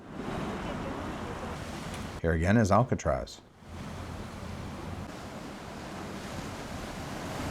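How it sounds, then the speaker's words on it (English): Continuous roar of Pacific surf breaking hard on the shore near the Golden Gate Bridge at Fort Point, San Francisco, briefly interrupted by someone speaking before the rushing waves resume. "The waves here hit really hard."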